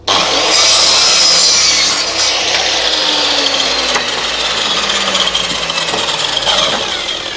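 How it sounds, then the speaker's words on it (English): A saw cuts a miter on wood for a picture frame, a loud continuous cutting whine with a steady engine-like drone that runs for several seconds, close by, with no talking. "I'll miter this edge here first."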